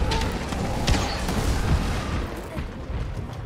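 Dense booming blasts from a bomb going off in Monster Hunter World, a heavy rumbling burst with repeated thudding impacts stacked close together across the whole stretch at steady loudness.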